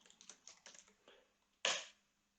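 A computer keyboard being typed on, with a quick run of soft close key taps, then a single louder keystroke, like the Enter key, before silence.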